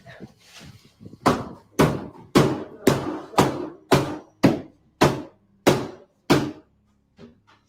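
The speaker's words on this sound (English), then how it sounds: "my uncle, he hammering the doors off" Someone hammers on doors, about ten heavy, evenly spaced thuds at a steady rhythm, loud and close, with a few softer knocks before and after.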